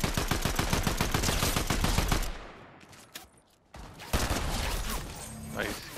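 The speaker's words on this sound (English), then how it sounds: "Another one shooting at me over here" Rapid automatic gunfire in Fortnite, a dense string of close, sharp shots for about two seconds, a short lull, then more shots and impacts.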